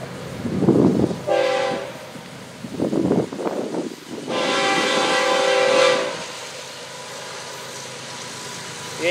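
Florida East Coast train 202, led by locomotive 806 with 807 trailing, passes close by, rumbling and clattering, while its horn sounds in two long blasts; a voice is heard briefly at the start.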